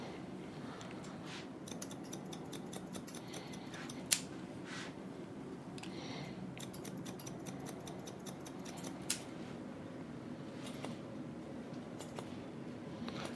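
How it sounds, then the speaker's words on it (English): Scissors snip repeatedly at close range while point cutting a man's hair to soften a disconnected corner, producing a steady series of quick, crisp metallic clicks over a low room hum with no talking. "So we're just going in, point cutting."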